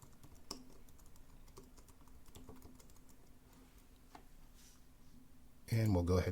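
Typing on a computer keyboard to enter a file name, a run of light, quick, fairly close key clicks, with a louder burst of sound at the very end.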